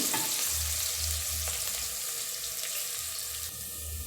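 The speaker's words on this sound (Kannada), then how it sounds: "ಇದು ಈರುಳ್ಳಿ ಸ್ವಲ್ಪ ಚೆನ್ನಾಗಿ ಫ್ರೈ ಆಗಲಿ, ಗೋಲ್ಡನ್ ಬ್ರೌನ್ ಆಗಲಿ." Onions frying in oil until golden brown for enne badanekai, a continuous bright sizzle with a low rhythmic rumble underneath, steady and close, with no talking.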